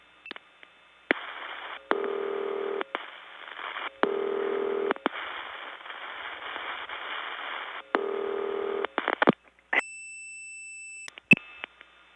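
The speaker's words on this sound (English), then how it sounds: "Now, where have I heard that ringing machine before?" A 1979 step-by-step telephone exchange in Gainesville, Georgia, gives out repeated bursts of buzzy ringing tone. Mechanical switch clicks follow, then a steady higher tone, all close and alone.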